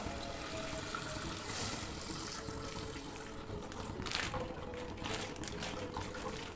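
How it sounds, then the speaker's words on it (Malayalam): Packet milk poured from the packet into a pan in a soft, continuous liquid stream, faint and steady for several seconds, with no voices. "അതങ്ങനെ ഒഴിക്കാൻ പോവുകയാണ്"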